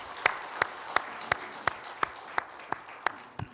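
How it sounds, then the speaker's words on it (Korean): A church congregation at a Sunday worship service claps together in slow, even unison, about ten sharp, evenly spaced claps with a quiet room in between. "우리 박수 치겠습니다."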